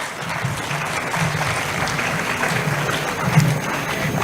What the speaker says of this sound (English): With a huge round of applause, let's welcome her.